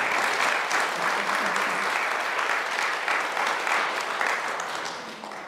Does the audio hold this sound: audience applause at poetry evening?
yes